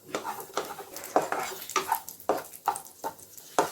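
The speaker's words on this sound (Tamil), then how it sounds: "இப்போ இதில் நம்ம திராட்சையும் போட்டுக்கணும்" Raisins are stirred in a frying pan while making rava laddu, with repeated scraping clinks of a spoon against metal in an uneven rhythm, close and fairly quiet, over a faint sizzle.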